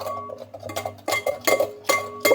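A spoon or whisk stirs cake batter with vanilla in a bowl, clinking and scraping against the sides in a steady rhythm of strokes, close and moderately loud, with no talking.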